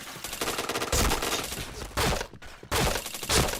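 Loud automatic gunfire from a video game comes in dense, sustained bursts separated by short gaps, close and harsh, with no talking.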